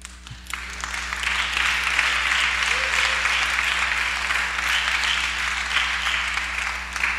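A church congregation applauds during a service: steady, dense clapping from many hands that fills the room for several seconds, with no voices over it.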